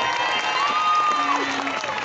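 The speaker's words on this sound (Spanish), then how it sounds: "¡Aplausos!" Clapping and cheering from a children's show crowd in Torreón, a dense, even wash of applause with some excited kids' voices, accompanied by a held electronic music tone.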